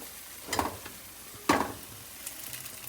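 Tadka is added to boiling langar dal, giving two sharp bursts of hissing sizzle that fade quickly, then a low bubbling simmer, close up and without speech.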